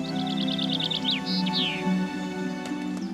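A chaffinch sings a bright, rapid descending trill ending in a flourish, then a few more notes, over a soft sustained musical background.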